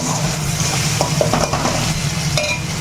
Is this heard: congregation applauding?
no